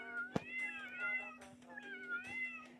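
A cat meows repeatedly in the video game Tasty Planet, a few drawn-out, wavering meows with a brief click near the start, fairly faint and alone.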